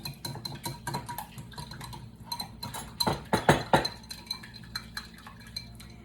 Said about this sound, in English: Just gonna whisk it up.